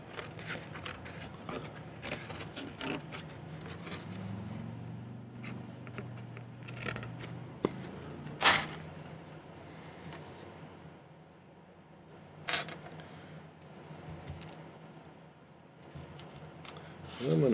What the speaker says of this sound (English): I'm going to actually cut a little bit of this tag board